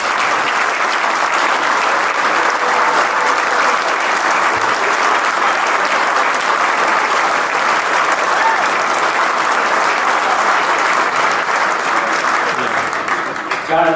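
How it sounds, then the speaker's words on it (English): A large room of guests at a medical distribution Hall of Fame event applauds Hall of Fame inductees as they stand, with dense, steady clapping that stays loud and sustained throughout and fades only at the very end. "let's give them a round of applause"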